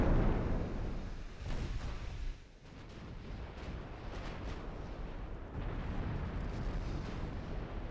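Royal Navy warships trade naval gunfire in the Ultimate Admiral Dreadnoughts video game, producing a heavy, continuous rumble of distant booming salvos with a brief dip before the rolling barrage swells again.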